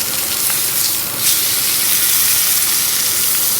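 A sous vide ribeye steak searing in a hot pan, giving a loud, dense, continuous sizzle and hiss close up with no break and no voices.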